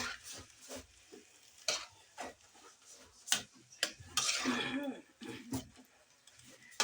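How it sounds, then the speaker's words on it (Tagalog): Food being stirred in a pot over a cooking fire, with scattered scraping knocks and a brief burst of sizzling midway, moderately close, with some talk. "Haluin."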